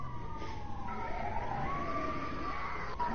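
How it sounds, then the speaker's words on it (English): Police siren in GTA 5, a wailing tone sweeping up and down through the whole stretch at moderate distance over steady background noise. "I can hear the sirens, right?"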